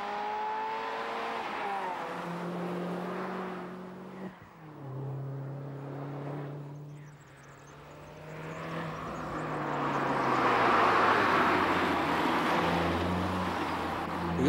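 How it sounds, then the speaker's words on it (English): A 2.0 Opel Astra TwinTop convertible accelerates on the road, its engine growl rising in pitch through several gear changes with brief dips between shifts, joined by steady road and wind rush, continuous and fairly close. "the engine gives off a nice sounding growl"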